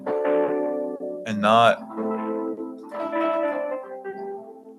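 Distorted Wurlitzer electric piano chords ring out in short, gritty phrases with a buzzy, overdriven edge, heard close and alone, interrupted by a brief spoken word in the middle.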